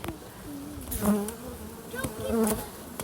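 Honey bees buzzing around their hives in winter after being given supplementary feed, a steady insect drone with several bees passing close by in swelling, wavering buzzes.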